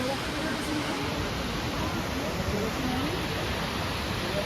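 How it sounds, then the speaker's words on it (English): A waterfall at a scenic vacation spot roars as a steady, broadband wash of rushing water, close and constant throughout, with faint voices underneath. "it's a very beautiful waterfall."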